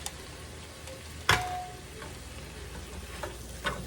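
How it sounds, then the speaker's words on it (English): Refried beans sizzle as they are stirred with meat in a pan, with soft steady frying, a sharp clack of the utensil against the pan and a few lighter scrapes afterward. "now we're going to get them stirred up in here with this meat"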